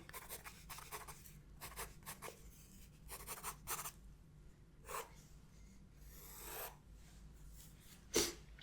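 A pencil scratches and rubs across paper in close, soft ASMR strokes, short scribbling bursts and longer shading sweeps with pauses between, plus a brief sharp breath or sniff near the end.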